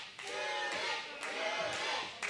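A wrestling crowd cheers and claps loudly at a live event, while a commentator talks over the noise.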